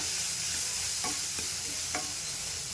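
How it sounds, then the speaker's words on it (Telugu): Onion and green chili paste sizzles steadily in a hot pan, a constant bright frying hiss with a few short scraping stirs of a spoon. "ఆనియన్ సగం ఫ్రై అవ్వగానే పచ్చిమిరపకాయలు మనము మిక్సీ వేసుకున్నది ఆ మిశ్రమం వేసేసుకోవాలండి"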